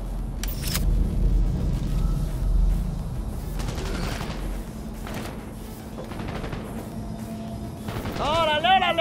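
Smartgun fire in Cyberpunk 2077 crackles in scattered bursts, with a loud blast near the start, amid background clatter and a voice talking briefly near the end.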